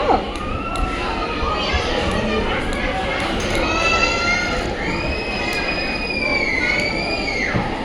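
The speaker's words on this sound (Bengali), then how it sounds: "Metro rail চালাচ্ছ?" Small toy metro train ride at the Babu Land amusement park, rumbling and squealing wheels with rising mechanical whines nearby, while children and adults chatter and shout over it.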